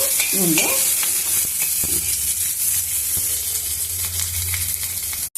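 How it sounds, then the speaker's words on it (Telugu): Red chillies fry in a little oil in a pan, a loud continuous sizzle with close stirring scrapes and a few clinks, and no voices. "వేయించుకోవడానికి కొంచెం బాగా వేయించుకున్నాము"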